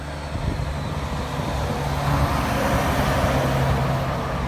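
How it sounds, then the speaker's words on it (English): Steady road traffic drones along Route 30 beside the Gettysburg battlefield, a continuous low rumble of passing cars and trucks close by, with no talk over it. "I'm sorry about the road traffic noise"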